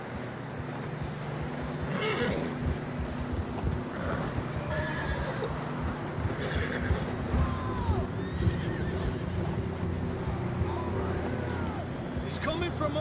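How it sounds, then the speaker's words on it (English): Horses whinny and snort in the video game Red Dead Redemption on PS4 over a steady rumbling ambient bed, with several short neighs scattered through and speech-like voices underneath. "John was riding that horse when we left Blackwater"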